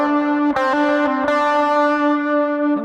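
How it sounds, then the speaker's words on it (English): An electric lead guitar plays a short riff through effects with a sustained, distorted and chorus-like tone, a few picked notes ringing into a long held note, loud and alone, from the intro of a song. "And then the lead guitar will play it again."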